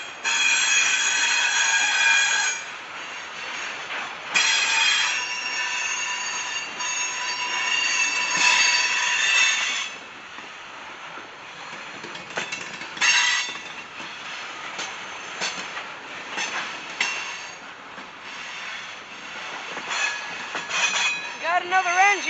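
A loaded CSX coal train rolls past in Grafton, West Virginia, with loud, tonal wheel squeal at first, then rumbling cars, clanking couplers and rhythmic wheel clicks, ending with rising squeals; someone talks occasionally over it.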